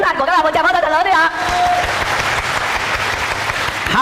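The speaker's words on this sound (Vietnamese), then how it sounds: "tràng pháo tay thật lớn đi ạ" A large seminar audience at a Vietnamese sales training event breaks into loud applause, dense clapping that swells right after a speaker's voice and keeps going steadily to the end.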